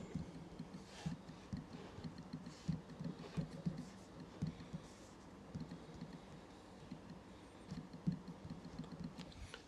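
A Mac trackpad being pressed over and over, giving soft, faint clicks in an irregular rhythm, close to the mic and set against a quiet room hiss.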